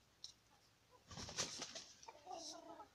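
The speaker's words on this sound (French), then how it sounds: "Les poules vont aller se percher." Hens and a rooster flapping and fluttering up onto their perches in the evening, with faint clucks and wingbeats in a quiet coop and soft background murmur.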